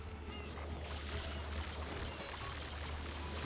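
Water from the spray nozzle in Super Mario Sunshine gushes in a steady hissing, splashing stream that runs continuously at moderate level, filling the scene without any talk over it.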